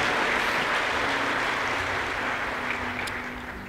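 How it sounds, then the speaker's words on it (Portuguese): A church congregation applauds in a steady, dense wash of clapping that stays fairly loud throughout and fades slightly toward the end, with no talking over it. "Você pode aplaudir a Jesus aí?"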